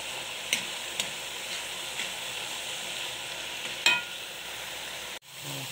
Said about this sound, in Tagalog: Halo-haloin natin saglit.